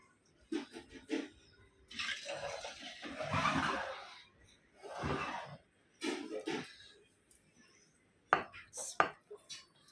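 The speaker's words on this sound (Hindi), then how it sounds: "अब इसको कूटेंगे अच्छे से" Turmeric and cumin are pounded in a small pot as part of a fish thali recipe. Irregular bursts of dull, close thuds and scraping come with short pauses between them, then sharper knocks near the end.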